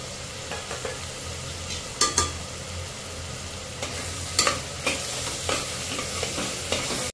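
Spices frying in oil with onion and tomato puree, a steady close sizzle punctuated by several sharp scraping stirs of a spoon against the pan, no talking.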